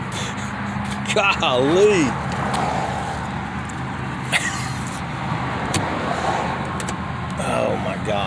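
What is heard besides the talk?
old rusty Pennsylvania pickup truck driving down the road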